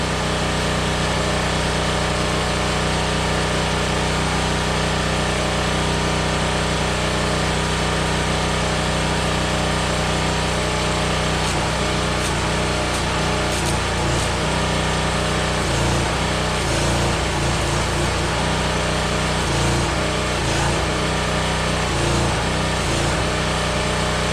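A 3400 watt generator drones steadily and loudly throughout while a Fronius Transsteel 2200 stick welds with a 3/32 inch 6011 rod at 69 amps, with crackling arc bursts joining in the second half.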